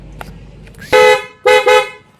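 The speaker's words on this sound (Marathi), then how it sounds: "असं काय हॉर्न वाजते बघा" A newly fitted horn on a Mahindra Bolero BS6 honks close and loud: one long blast followed by two shorter toots in quick succession.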